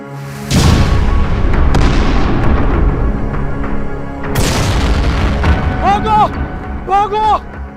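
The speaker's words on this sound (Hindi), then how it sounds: "इंडिया ने फायर खोल दिए।" Heavy artillery fire as Indian guns open up in a wartime drama, two deep booming blasts with long rumbling decay, followed by someone shouting urgently.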